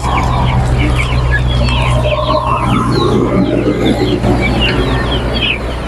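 Many chickens cluck and chatter together at a poultry sale, a loud, dense flock sound with a steady low hum underneath.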